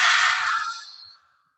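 A forceful lion's breath exhale during a yoga class, one long breathy rush through an open mouth with tongue out, loud at first and fading over about a second.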